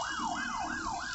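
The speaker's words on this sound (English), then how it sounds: "ambulance" An ambulance siren wails in a continuous rising and falling sweep, loud and close over a low road rumble from passing traffic.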